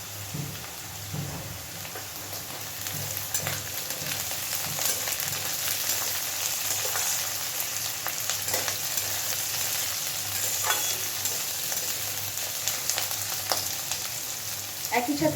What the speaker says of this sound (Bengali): এবার দিয়ে দিচ্ছি পেঁয়াজ কুচি আর চেরা কাঁচা লঙ্কা।